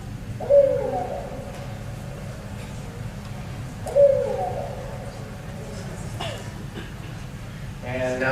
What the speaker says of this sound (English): this is their recording of a barred owl